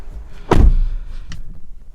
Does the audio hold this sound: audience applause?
no